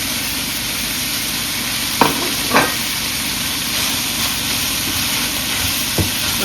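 Chicken pieces and sliced onions frying in a pan for fajitas: a steady broad sizzle throughout, with a few brief utensil clinks or stirring scrapes, and no talking.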